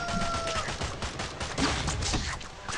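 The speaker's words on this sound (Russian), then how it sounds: "Стреляю по трубе и ничего, ребят, там не происходит" Rapid gunshots in the mobile game Swamp Attack 2, fired repeatedly at a pipe, a dense stream of close, loud reports with no pause and faint voice underneath.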